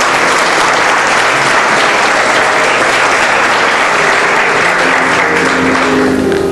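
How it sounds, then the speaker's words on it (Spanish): Loud, sustained applause from a large crowd at an Easter Sunday service, dense clapping filling the whole stretch without a break, with cheering faintly mixed in. "Dale un aplauso al Rey."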